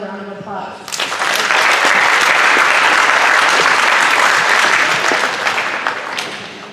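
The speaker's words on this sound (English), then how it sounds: "Please give them a round of applause." Loud audience applause at a school academic awards assembly, breaking in right after a brief bit of speech and holding as a dense, sustained wash of many hands before tapering off slightly at the end.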